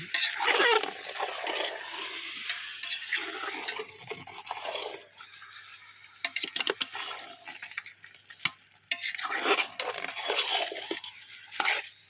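Chicken is stirred and fried in a pot, cooked the home-style way, with scraping and sizzling in bursts and pauses, close by, without talk.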